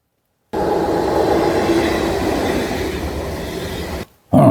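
A train sound effect gives a steady, loud rumble of rolling rail cars that runs for a few seconds, breaks off abruptly, then resumes briefly.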